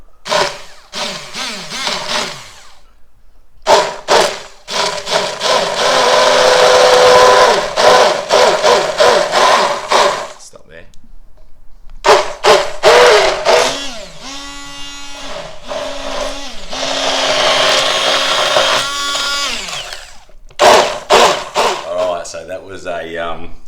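A stick blender whirs through butter chicken sauce in stop-start bursts of motor noise with brief gaps between runs, while people talk and exclaim over it close by.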